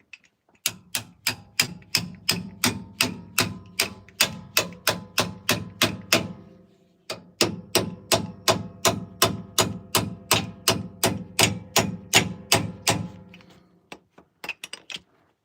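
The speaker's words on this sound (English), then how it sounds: "Take your ratchet." A ratchet wrench turning on a Dana 80 axle clicks in quick, even bursts of strokes close by, with a short pause midway and a few final taps.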